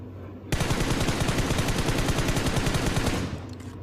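Sustained automatic fire from a DP machine gun in the BGMI mobile battle royale game, a dense rapid burst running about three seconds without pause, loud and close, then cutting off.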